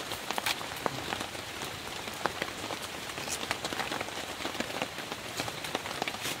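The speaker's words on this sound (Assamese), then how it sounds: "একদম পূৰা বৰষুণ দি আছে" Heavy rain pours steadily, drops pattering densely on a hard surface, with no voices.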